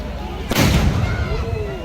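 A single sharp firecracker blast at an outdoor event: a loud bang with a rumbling, echoing decay, over a background of murmuring voices.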